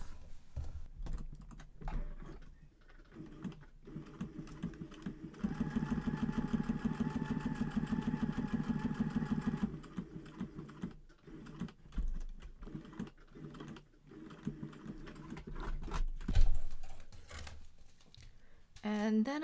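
Sewing machine stitching a shaker library pocket closed, a steady rapid mechanical hum running for about four seconds mid-clip between quieter handling sounds and soft talk.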